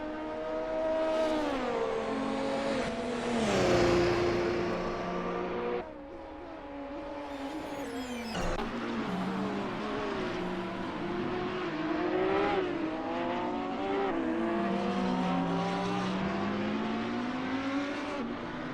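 LMP prototypes and GT3 race cars at Laguna Seca in Assetto Corsa scream past one after another, engines rising and falling in pitch as they accelerate, shift and pass close by, with no voices over them.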